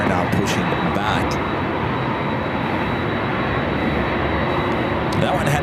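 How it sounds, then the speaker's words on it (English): A Delta Boeing 767-300ER pushing back at LAX, with steady broadband jet engine roar and rushing hiss filling the whole span, loud and continuous, with faint voices underneath. "There is another Delta 767 at 300ER now pushing back."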